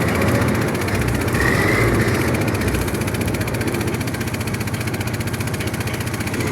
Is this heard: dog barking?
no